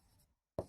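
Chalk on a classroom board as a teacher writes an example during a Hindi grammar lesson, a soft scratchy stroke, a short pause, then one sharp tap of chalk striking the board.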